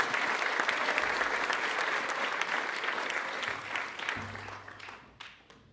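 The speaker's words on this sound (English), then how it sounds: "I also, before I begin, want to have us again applaud the choir." An audience at a memorial lecture applauds the choir, a full round of clapping that stays even through most of the stretch and then thins and fades near the close.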